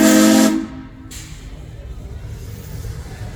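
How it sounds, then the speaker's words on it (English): A steam train whistle at Silver Dollar City in Branson, Missouri blasts loud and close for about half a second, then cuts off, leaving a low rumbling outdoor background. "About to hear that new whistle."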